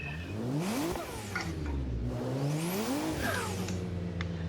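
A Swarm E36 BMW drift car in a video game, driven on the Drift Masters Spain track layout, revs hard with its engine pitch rising and falling continuously, loud and close, with faint tire squeal behind.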